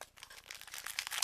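A Pokemon card booster pack wrapper from a Blastoise pack is torn open, giving a brief close crinkling, crackling rip of foil plastic with no talking.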